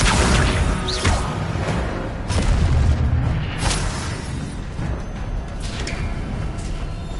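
In a Harry Potter video game, the Incendio fire spell and other spell effects fill the mix with loud, continuous rumbling booms, whooshes and crackling bursts.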